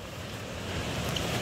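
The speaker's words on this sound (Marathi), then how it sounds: "ते बघा तिकडं समोर बघा धबधबा" A jungle waterfall swollen by rain rushes as a steady, broad, hissing roar, heard from a distance at a fairly low level and with no talking.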